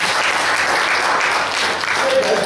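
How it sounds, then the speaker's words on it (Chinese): A church congregation gives a dense, steady round of applause, many hands clapping together for the whole stretch without a break. "拍手俾我哋啊！"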